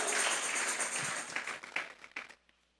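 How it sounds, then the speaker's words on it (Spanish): A church congregation claps together as an offering of praise, a dense burst of many hands that thins into a few scattered claps and fades to near silence at the end. "Vamos a regalarle ofrenda de palmas al Dios de la gloria."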